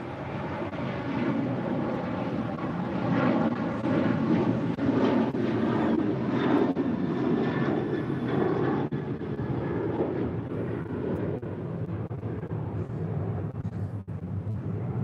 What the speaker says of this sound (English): Is United Airlines flight 783 heading to Washington Dulles